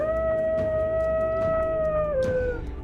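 A long, sustained tonal howl from the grimdark RPG Maker game Woe Reigns Unending, holding one steady pitch for over two seconds before sliding down, loud and clear over a low rumbling background, with no voices.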